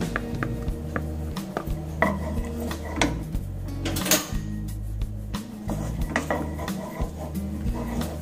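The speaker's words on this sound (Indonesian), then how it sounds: "Bawang putih dan bawang bombaynya kita masukin. Kita aduk-aduk dulu." Garlic and onion stirred in a little oil in a pan, giving repeated clinks and scrapes of a utensil against the cookware, with a steady low hum of the kitchen running underneath.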